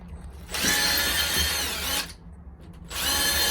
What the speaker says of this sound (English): So what I did is I just drilled it with a drill